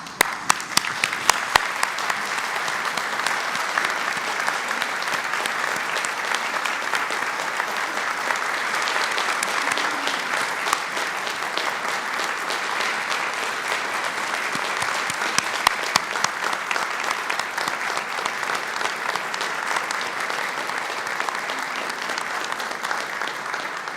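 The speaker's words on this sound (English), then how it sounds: "I ask all our graduates to stand and applaud those who've supported them to this" Graduates at a graduate school commencement ceremony standing to applaud their supporters, a large hall filled with loud, dense, sustained clapping that holds steady for a long stretch, with a few sharper individual claps standing out.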